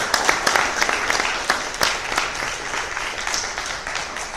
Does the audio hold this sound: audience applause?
yes